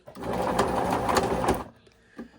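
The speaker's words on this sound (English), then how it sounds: "And then we're going to sew." A EuroPro Shark PT2 sewing machine runs a straight stitch in a steady fast whir for about a second and a half, then stops, followed by a faint click.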